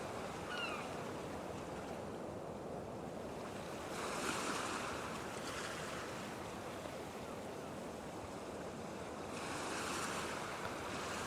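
Sea waves wash onto a shore below a forest slope, a steady roar of surf with gentle swells in loudness every few seconds, quite faint and mixed with wind buffeting the microphone, no talk.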